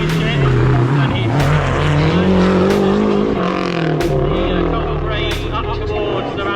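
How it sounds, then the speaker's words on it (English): A Lancia Delta Integrale Group A rally car races past close by at a track, its engine roaring loud and continuous with revving pitch changes and sharp gear-change cracks throughout. "next up is Mickey Biasion in the Lancia Delta Integrale Group A rally car"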